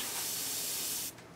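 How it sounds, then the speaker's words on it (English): Steady airbrush spray hisses close up as paint goes onto a scale model vehicle panel, then cuts off abruptly near the end, leaving faint background noise. "I'm spraying almost perpendicular to the piece"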